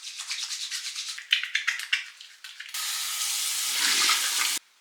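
At a bathroom sink, a face is washed with water and cleansing foam: rhythmic splashing and rubbing strokes, then a tap running steadily for a couple of seconds before shutting off, close and without talk.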